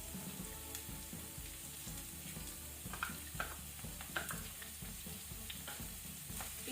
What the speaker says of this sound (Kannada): ಈಗ ಇದನ್ನು ಸ್ವಲ್ಪ ಫ್ರೈ ಮಾಡ್ಕೊಳ್ಳುವ ಮೀಡಿಯಂ ಫ್ಲೇಮ್ ಅಲ್ಲಿ.